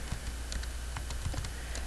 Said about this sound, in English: Typing and talking is not my strongest forte here.